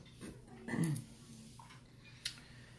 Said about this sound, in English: She's a little dachshund mix for sure.